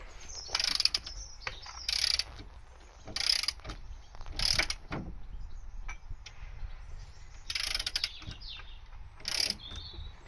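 A ratchet tightens the central wheel hub bolt on a Ford Fiesta Mk6 during rear wheel bearing work, sounding as bursts of sharp, close clicking separated by short pauses and faint handling noises.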